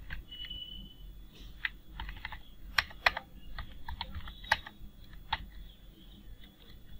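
Typing on a computer keyboard during a Python pattern programming lesson: a short burst of crisp, close key clicks in an uneven rhythm, fairly quiet, with no talking.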